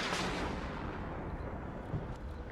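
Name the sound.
artillery fire near an M109 in the video game WARNO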